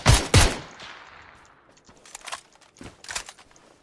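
A few suppressed MK47 rifle shots in a video game: two close, heavy bursts at the start fading into a tail, then fainter scattered shots and clicks afterward.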